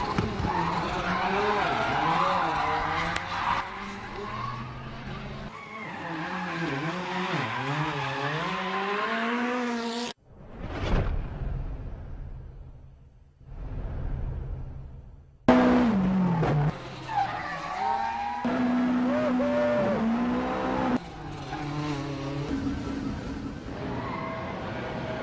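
Car engines roar and tires squeal through repeated skids and spins, loud and sustained, with a couple of brief whooshing passes and a voice talking over parts of it.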